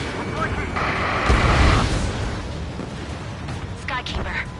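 A missile strike and explosion in an air combat video game sounds out as a broad roaring blast that swells mid-clip with a deep low rumble, then trails off as radio voices talk over the mix.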